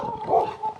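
A dog gives a short, close whimpering yip and a brief bark, two quick vocal bursts indoors.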